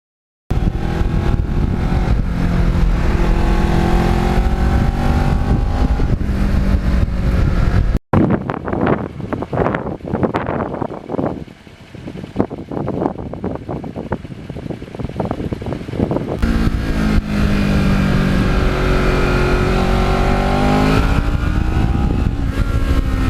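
A restored 13-year-old Kawasaki Ninja motorcycle accelerates hard through the gears on a road, its engine note climbing and dropping with brief pauses at each shift, loud and close with heavy wind noise.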